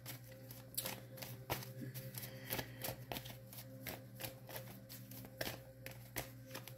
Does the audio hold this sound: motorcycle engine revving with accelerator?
no